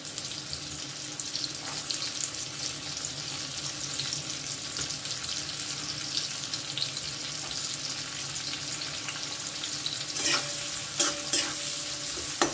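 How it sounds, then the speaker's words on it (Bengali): Carrots and peas frying in a pan over a medium flame, giving a steady, dense sizzle with a few louder clinks and stirring scrapes near the end, close and even. "এবার গাজর আর মটরগুলোকেও ভেজে নেব।"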